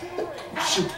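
A single sharp sneeze bursts out close by during a reaction to a televised wrestling show, preceded and followed by brief speech.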